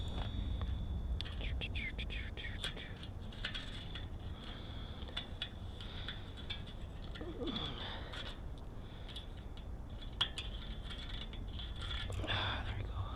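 A hand reaming tool scrapes and grinds inside a spoke hole on an e-bike wheel rim during a house-call repair, giving faint, irregular metallic scraping over a steady background hiss.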